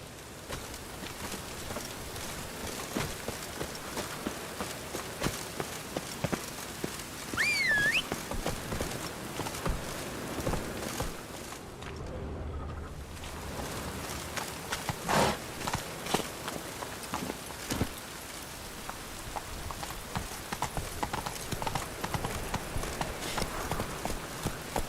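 Roach, a horse in The Witcher 3, trotting with steady, close clip-clop hoofbeats on the ground, continuous for about twenty-five seconds amid faint game ambience.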